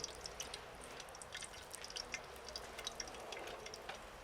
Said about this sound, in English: We add a ladle of the mixture at a time in the hot lard.